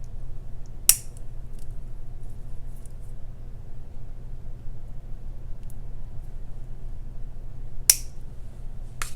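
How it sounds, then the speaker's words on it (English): Scissors snipping excess beading wire on a necklace, two sharp isolated clicks several seconds apart against a quiet low hum. "And now let me go ahead and trim the excess."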